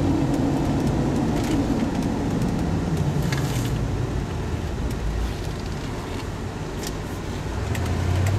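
A 1994 Ford Bronco engine drones steadily while driving, a continuous loud low rumble with road and wind noise, swelling slightly under throttle near the end.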